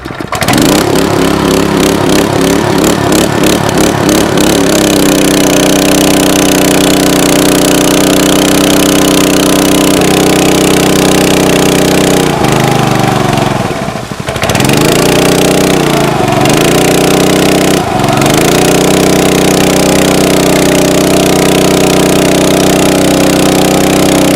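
The gasoline engine of a Raptor RWP 30 three-inch water pump runs loud and steady throughout with a rough, buzzing drone, its pitch dipping briefly a few times near the end.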